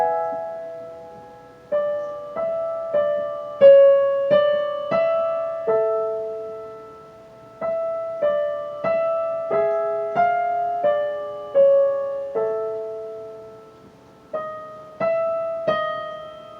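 A piano plays a line from the Adagio Sostenuto of Rachmaninov's Piano Concerto No. 2 as a slow, close melody of clear sustained notes and soft chords, each fading before the next, with a brief pause midway and no talking.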